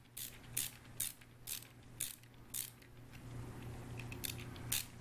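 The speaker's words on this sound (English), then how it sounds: "all you do is just tighten the clamp down so the wires don't go anywhere" Clamp screws being tightened on a homemade extension cord plug: a series of quiet, evenly spaced clicking ratchet-like turns, about two per second, close up over a low steady hum, without speech.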